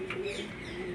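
Pigeons coo softly and continuously with a low steady tone, fairly close and unaccompanied by talk.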